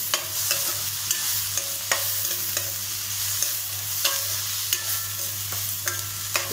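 Ginger and garlic frying in a pan for a chickpea masala curry, a steady close sizzle broken by regular scraping stirs with a utensil, no voices.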